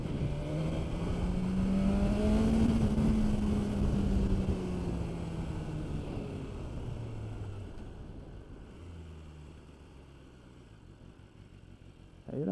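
A BMW S1000RR sport motorcycle accelerates hard on a high-speed track, its engine note climbing loudly before it fades into a lower, more distant drone.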